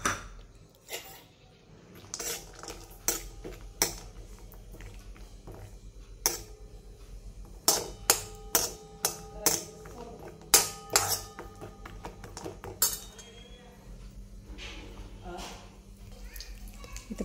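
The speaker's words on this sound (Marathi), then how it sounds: "ते काजू आपण तळून घेऊ" Cashews are stirred in hot ghee in a kadhai, a spatula giving sharp irregular metallic clinks and taps against the pan, with a voice speaking between the knocks.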